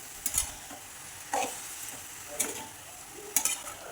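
A spring onion mixture stirred in a pan, four separate scraping strokes of a spoon spaced about a second apart over a faint low sizzle, close and quiet, with no voices.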